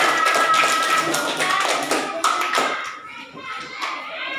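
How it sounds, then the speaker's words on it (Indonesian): Children in an elementary school classroom clap their hands together in a brief burst of patterned claps, fairly close, fading out toward the end with some voices mixed in. "Kasih tepuk tangan."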